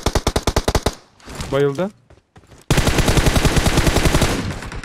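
Rapid automatic gunfire in PUBG Mobile, loud bursts of evenly spaced shots, one at the start and a longer sustained volley after a short pause, with a voice speaking briefly between them.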